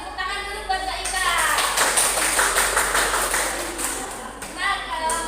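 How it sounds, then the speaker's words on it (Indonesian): A class claps briefly for a student during an Indonesian-language primary school lesson, a short burst of clapping mixed with voices. "Kita beri tepuk tangan dulu buat Mbak Ika."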